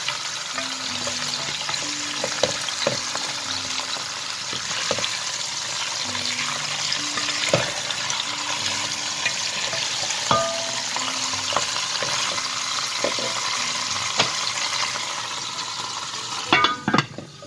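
Farm chicken sizzles steadily as it browns in a covered pan, a constant close frying hiss with occasional clinks and soft knocks over about seventeen seconds.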